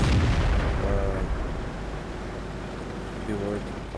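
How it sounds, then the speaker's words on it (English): A tank gun fires at a T-25 in World of Tanks, one loud, low boom at the very start that rolls off into the game's background rumble while someone talks. "I do put another shot into the T-25"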